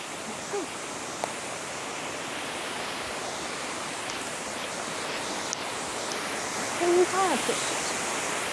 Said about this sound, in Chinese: 然后我们看到一个瀑布，小瀑布啊，小断崖瀑布。